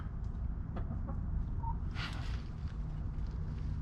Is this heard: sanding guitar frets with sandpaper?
no